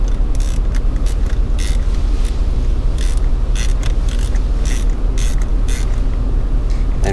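A ratchet wrench tightens a spark plug on a VW Touareg, giving a run of quick creaking clicks in an uneven rhythm over a steady close background hum.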